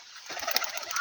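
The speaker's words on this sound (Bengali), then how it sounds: "পায়রাটা এখানেই তাহলে উড়াই দিয়া যাক" A pet pigeon released in an open field in the Sundarbans area, a brief close flutter of wings as it takes off, lasting under a second with no talk.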